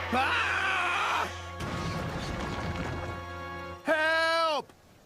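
An animated old tramp steamer, out of control and running aground, crashes into engine sheds: a loud sustained tone, then a rumbling smash of debris, then a brief falling whistle-like blast.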